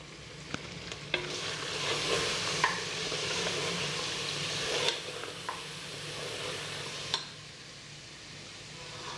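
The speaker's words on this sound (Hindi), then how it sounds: "अब हम इसको 2 मिनट तक भूनेंगे।" Spice masala for an aloo mutton curry frying in a pan, Pakistani style, with a steady close sizzle and repeated stirring scrapes and knocks throughout, no talking.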